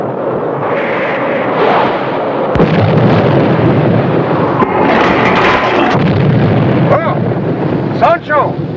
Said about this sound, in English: It is, if I may humbly say, an explosion of some sort.